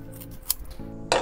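Scissors snipping through a soaked, softened natural loofah sponge: a few short, close crisp cuts with faint metallic clinks between them, ending in a louder rasping snip.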